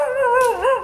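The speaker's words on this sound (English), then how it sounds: "including barking dogs" A dog in Vicenza, Italy, gives a single drawn-out, wavering howl-like bark, close and fairly loud, with no talking over it.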